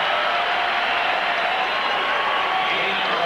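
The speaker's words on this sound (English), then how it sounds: "You'll hear the crowd announce this." A stadium crowd at an NFL game between the Philadelphia Eagles and San Diego Chargers cheers for quarterback Dan Fouts with a dense, steady roar that sounds loud and distant and holds evenly throughout.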